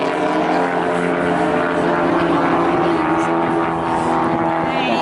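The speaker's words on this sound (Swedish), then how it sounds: "men det är ett flygplan som plattar" The steady, loud drone of an airplane engine passes overhead during a race in Mora, a humming propeller tone that holds throughout, with voices faintly underneath.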